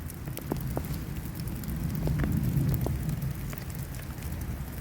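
Freezing rain falls on ice-covered tree branches in winter: a dense, continuous patter with scattered sharper ticks and drips, moderately loud and fairly close.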